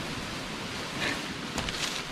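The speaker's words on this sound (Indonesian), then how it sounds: "Wah, kedengeran nggak sih suara angin nih?" Wind gusting across an open mountain trail on Mount Raung's Glenmore route in Java, a steady broadband rush with brief stronger buffets, heard alone.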